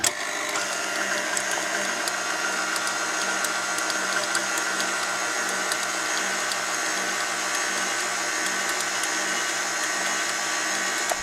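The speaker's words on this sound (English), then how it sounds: "Now this is the last blending before we put it in our bun pan" A mixer blends sourdough pound cake batter in a steady, continuous whir with a faint regular rhythmic ticking, close and even from start to finish, with no talk over it.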